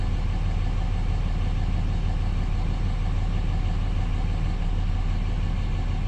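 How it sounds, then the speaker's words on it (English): A steady, droning diesel engine runs continuously at an even idle, low and rumbling with no variation and no voices. "Let's revisit that with the engine running."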